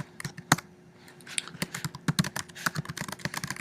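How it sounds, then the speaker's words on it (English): Keys on a computer keyboard clack in quick, irregular bursts while typing into a document, close and fairly quiet, with a faint steady hum beneath. "I could type in there."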